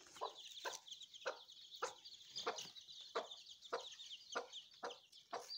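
A broody hen, a mother of chicks, giving a steady series of short clucks at a regular rhythm, close but soft, with no talk.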